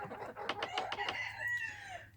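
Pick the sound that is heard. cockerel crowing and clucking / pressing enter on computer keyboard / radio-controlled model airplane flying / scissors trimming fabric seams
cockerel crowing and clucking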